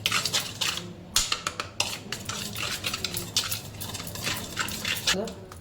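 Garlic paste masala being mixed in a pan for a Konkani bangda (mackerel) curry, with a spoon clattering and scraping against metal in quick irregular strokes, fairly close and steady throughout.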